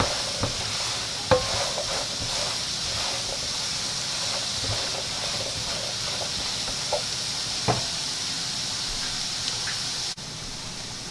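A pan of breakfast burrito filling seasoned with ground black pepper sizzles with a loud, steady hiss, while a few sharp scrapes and clicks of stirring break through at irregular moments.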